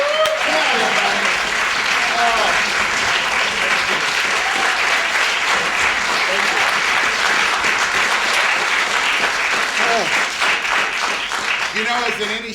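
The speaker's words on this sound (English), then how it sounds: "A huge round of applause for his writing." An audience at a live show gives a long, loud, continuous round of applause from many hands, dense and close.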